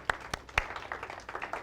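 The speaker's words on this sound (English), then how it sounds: "A round of applause for my team." An audience at an event claps in scattered, uneven bursts, a handful of sharp individual claps rather than a full roar of applause.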